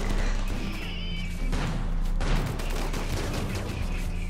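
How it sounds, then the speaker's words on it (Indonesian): A heavy explosion in the video game RimWorld booms amid continuous rumbling gunfire and crashing effects, loud and chaotic throughout. "Kok ada yang meledak tadi?"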